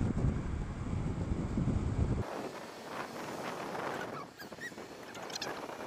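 Strong wind buffets the microphone while riding fast along a highway, a loud, rough roar that drops abruptly to a lighter, steady rush of air, with no talking.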